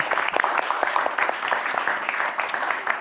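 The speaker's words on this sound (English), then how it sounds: "let's clap for him" Audience clapping at an academic research symposium, a dense, steady applause with sharp individual claps running throughout, fairly close and loud, no speech over it.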